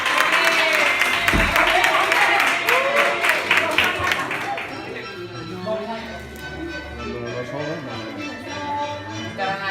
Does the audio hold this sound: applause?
yes